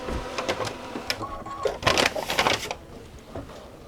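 A sewing machine stitches back over a basting line while making stabilizer windows from Tyvek, giving a close, uneven run of rapid mechanical clatter that swells in the middle and then tapers to quiet.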